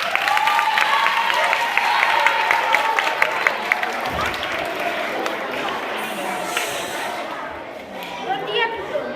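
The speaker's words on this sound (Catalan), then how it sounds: "Fem-los un aplaudiment." Audience applause at a school Christmas festival keeps up as a dense sustained clapping with crowd chatter and voices over it. It fades slightly near the end.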